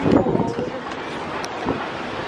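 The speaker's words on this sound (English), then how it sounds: "I'm trying to cover the wind." Wind buffets the microphone outdoors beside a shopping mall, a steady low rumble with a louder gust at the start, while a voice speaks faintly underneath.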